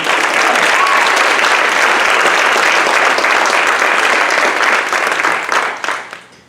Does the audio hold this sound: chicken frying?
no